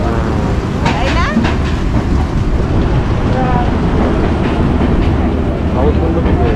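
Rumbling interior of a moving passenger train on the Mumbai to Ratnagiri route in rainy weather, with a steady loud roar and rattle of the carriage and a voice talking over it.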